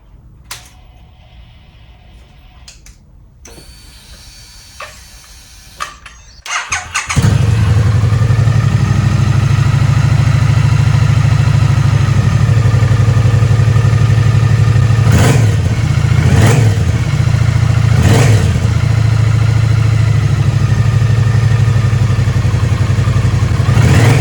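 A Triumph Street Cup motorcycle on a jack, fitted with a new air filter, clatters through handling sounds before its engine fires and settles into a loud steady idle close by, with a few sharp throttle blips.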